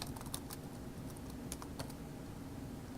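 Rapid clicking of computer keys, a steady run of light taps with a few sharper strokes, quiet and close with no voices.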